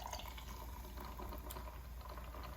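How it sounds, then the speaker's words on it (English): Hibiscus LaCroix sparkling water pours into a glass of lavender lemonade, a quiet steady fizzing splash and trickle running for a couple of seconds without speech. "Now we're gonna top it off with the hibiscus LaCroix."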